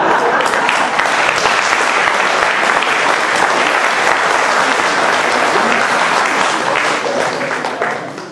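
An audience claps and applauds at a live comedy show: dense, continuous, loud applause lasting about eight seconds, tapering slightly at the end.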